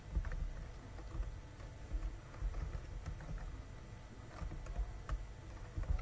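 Soft, rapid keyboard typing clicks along steadily over a low background rumble, fairly quiet and close.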